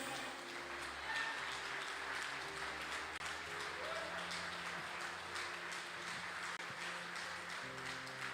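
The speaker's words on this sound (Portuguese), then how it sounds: "Você pode se colocar de pé e aplaudir o nome de Jesus." A church congregation stands and applauds, with sustained, even clapping from a crowd filling the room for several seconds.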